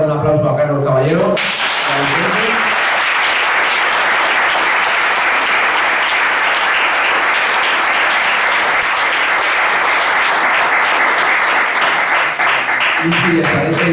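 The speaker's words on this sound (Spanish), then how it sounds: "yo creo que le vamos a dar un aplauso a Carlos Caballero" A book-talk audience at a cultural venue gives a loud, sustained round of dense applause for an author, lasting over ten seconds, with brief speech at the start and end.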